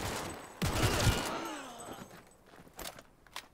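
Gunshots in the video game Cyberpunk 2077: a loud cluster of rapid close-range shots around one second in, then quieter scattered shots and clatter trailing off.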